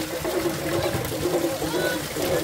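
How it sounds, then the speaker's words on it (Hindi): Cold water trickles and gurgles steadily from two natural mountain streams at a high-altitude village on the Kedarnath pilgrimage route, a continuous close rushing flow. "यहां पे दो धाराएं हैं जिनसे कि ठंडा ठंडा पानी बह रहा है"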